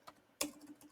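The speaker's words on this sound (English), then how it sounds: "You can just begin typing to take a note right there." A few quiet taps on a computer keyboard, sparse and irregular, with one sharper keystroke midway, faint and close with no talk.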